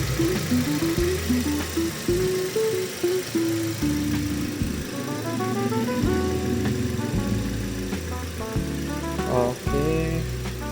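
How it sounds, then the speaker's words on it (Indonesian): A Toyota Avanza Veloz automatic idles just after a cold start, its engine giving a steady, continuous low hum throughout, with tonal, music-like sounds layered over it. "Ya, ini suara mesin cold startnya ya."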